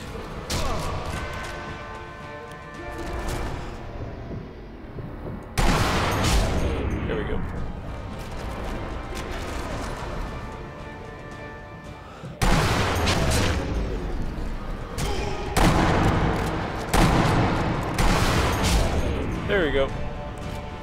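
Gunfire booms through a Sniper Elite V2 co-op session, heavy sharp shots landing in irregular bursts with ringing tails and crashing impacts, while players talk over the action throughout.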